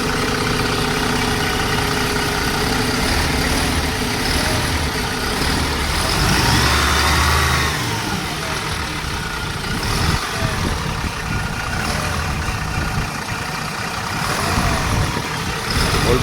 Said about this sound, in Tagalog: Laki din ang makina, oh.